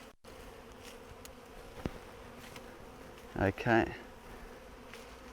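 A honey bee swarm being caught into a hive box hums with a continuous faint buzz, with a few brief louder passes near the microphone and a single short spoken word.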